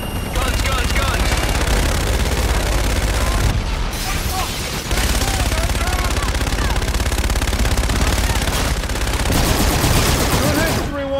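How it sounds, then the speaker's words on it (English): Sustained loud automatic gunfire and booming fire from an aircraft gun run in the video game Call of Duty: Infinite Warfare, a dense continuous barrage with brief breaks, mixed with music and radio-style voices. "Inbound for gun run. Guns, guns, guns!"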